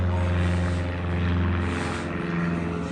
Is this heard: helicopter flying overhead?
yes